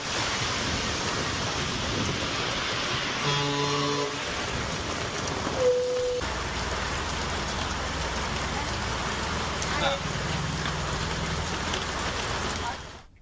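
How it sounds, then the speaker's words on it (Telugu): Heavy rain pours steadily in Tirumala, a dense continuous hiss of water on surfaces lasting throughout, loud and close, with a faint low rumble and a brief tonal sound partway through. "తిరుమలలో భారీ వర్షం కురిసింది."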